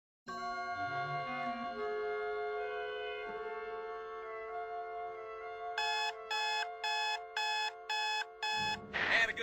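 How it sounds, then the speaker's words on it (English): An alarm clock rings, a steady sustained tone that shifts partway through into a rhythmic on-off pulsing beep, loud and close, ending in a brief burst of noise. "Oh, forgot to turn the blasted alarm off."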